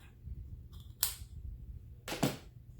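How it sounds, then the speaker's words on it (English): Scissors cut sewing thread in a groove, giving two short, crisp snips close to the microphone over a quiet background. "You take your scissors and you're going to go into the groove and you're going to cut."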